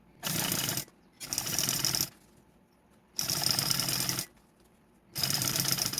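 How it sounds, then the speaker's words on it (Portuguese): Sewing machine stitches folded bias binding along the edge of a shoulder bag, running in four fast buzzing bursts of about a second each separated by short pauses. "E vai vir com uma costura bem na bordinha, nessa bordinha de meio centímetro."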